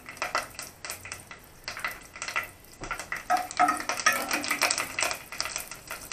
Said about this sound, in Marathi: तेल तापलं की त्याच्यामध्ये आपण कढीपत्त्याची 8 ते 10 पानं,